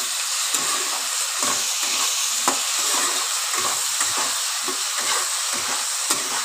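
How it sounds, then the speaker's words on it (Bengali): Cabbage curry frying in a pan, a loud constant sizzle and hiss close by with rhythmic scraping strokes of stirring throughout. "এবার আমি আবার একটু নাড়াচাড়া করে নিই, আবার একটু কষিয়ে নিচ্ছি তরকারিটা"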